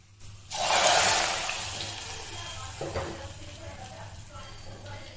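Cashews and raisins sizzling in hot fat in a pan for semiya payasam, a sudden burst of frying hiss that slowly settles, with brief stirring clatter.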